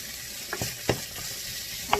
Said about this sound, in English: The sausage is starting to cook.